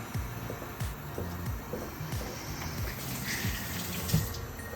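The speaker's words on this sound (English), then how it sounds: "Wash your hand first." Tap water runs steadily into a sink during hand washing in a kitchen, a close continuous splashing stream with faint clatter underneath and no talking.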